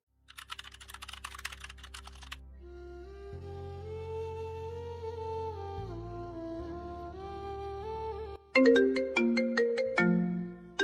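A phone ringtone plays a looping synthesized melody, preceded by a burst of keyboard typing and ending with brighter, chiming tones; no talking.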